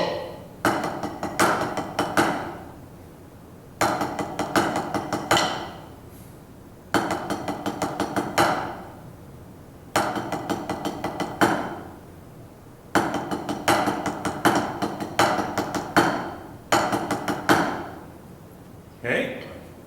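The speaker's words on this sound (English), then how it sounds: "You can see in the first 2 measures, the traditional paradiddle pattern, and then in measure 3, you've got the triple paradiddle pattern." Snare drum playing paradiddle and triple paradiddle patterns for a school symphonic band exercise, crisp close strokes in six repeated accented phrases separated by short pauses.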